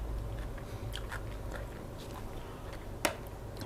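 Close crunchy chewing of a spicy Thai dish with crisp bites over a steady background hiss, one sharper crack standing out near the end.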